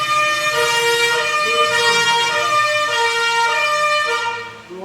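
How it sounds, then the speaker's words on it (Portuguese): A loud ambulance siren blares nearby in sustained, stepping two-tone wails as it passes, fading slightly at the very end. "Passou uma ambulância aqui."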